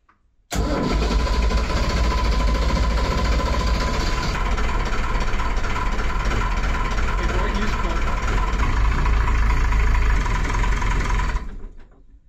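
The diesel engine of a small boat, a cutter, runs loud and close, a dense steady clatter that holds for about eleven seconds before cutting off abruptly.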